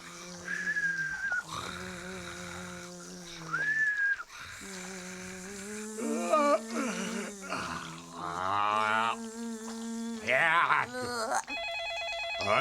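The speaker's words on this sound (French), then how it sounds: "Ah, téléphone." Cartoon telephone ringing amid an animated pirate comedy, bright repeated ring tones mixed with voices, grunts and music-like effects, moderately loud.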